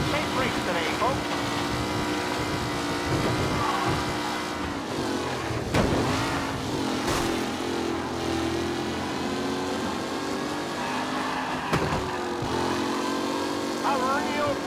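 Race cars in Mafia Definitive Edition, engines droning and shifting pitch as they rev and pass, steady and close throughout, with a voice talking over them.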